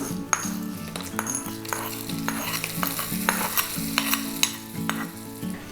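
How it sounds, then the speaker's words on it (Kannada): Oggarane tempering poured into doddapatre leaf tambuli sizzles loudly up close, with rhythmic metallic clinks and scrapes of a ladle stirring against the pan. "ಈಗ ಇದಕ್ಕೆ ಒಗ್ಗರಣೆಯನ್ನು ಸೇರಿಸ್ತಾ ಇದ್ದೀನಿ"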